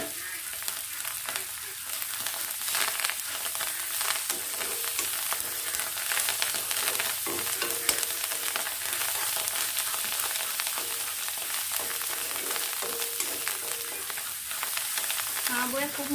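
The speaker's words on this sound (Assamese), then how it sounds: "এইখিনি অকণমান ভাজি ল'ম।" Finely chopped matikanduri greens frying in hot oil, a loud, continuous close sizzle and crackle with occasional stirring scrapes throughout.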